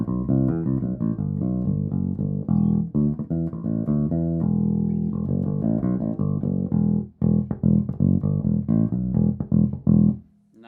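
Skjold Slayer six-string bass played through its neodymium neck pickup with tone up and preamp flat: steady melodic plucked notes with a deep, full low end, then a run of short punchy staccato notes, played alone.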